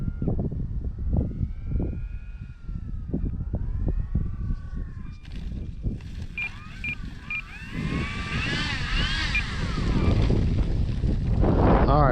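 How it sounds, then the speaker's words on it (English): An E-Flite Draco RC plane flies overhead, its electric motor whining and sweeping in pitch as it passes close and then farther off, with wind buffeting the microphone and the motor drone growing louder near the end. "That is Draco in all of her glory. And one incredible RC plane."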